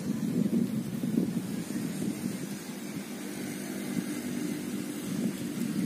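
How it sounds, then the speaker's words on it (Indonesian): Strong gusting wind at Putukrejo reservoir in Nganjuk, heard as a steady low roar buffeting the microphone with swelling gusts, continuous and loud throughout, with no voices. "Nganjuk kota angin ya, itu emang anginnya sangat besar sekali ketimbang wilayah kabupaten atau kota lain."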